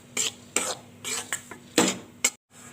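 Spoon scraping and clinking against a pan as milk is stirred in while cooking atta pera, several distinct strokes at an uneven pace with faint background sizzle, close and clear.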